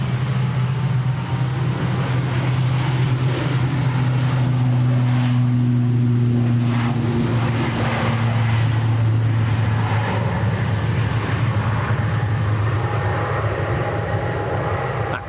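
An Aer Lingus airliner departs Manchester Airport for Dublin with a loud, sustained engine roar and a steady low drone, shifting tones running throughout without a break.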